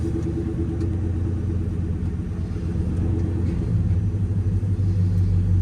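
A rusty, rat-rod Dodge Charger's engine rumbles low and steady at close range, with a deep continuous throb that swells slightly toward the end.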